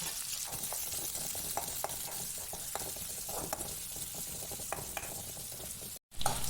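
Shallots and curry leaves fry in hot ghee for a tender jackfruit curry, giving a continuous close sizzle with scattered stirring clicks and a brief dropout near the end.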